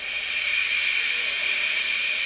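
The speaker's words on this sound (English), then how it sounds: "He just let off steam feebly." A steam locomotive lets off steam in a steady, continuous hiss that stays even and moderately loud throughout, with no voices.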